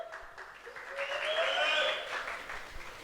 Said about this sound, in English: another round of applause for our Hall of Fame winner